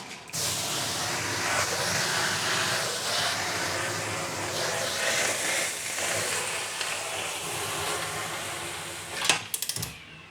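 Loud, steady rush of steam hissing inside an oven while macarons bake, holding broad and even for most of the stretch before breaking into a few sharp clicks and clatters near the end.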